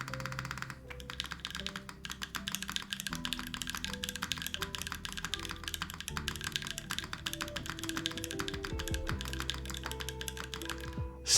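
Fast, continuous typing on a Flash mechanical keyboard with a PBT spacebar, set straight on the desk with no mat, giving dense close-up key clacks over a steady tonal background.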